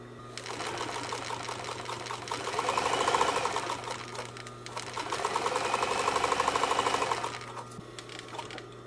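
A Chandler industrial sewing machine, a Bernina 950 type with a clutch motor, runs steadily while winding a bobbin, a continuous mechanical whir that swells twice in longer bursts over a constant low motor hum.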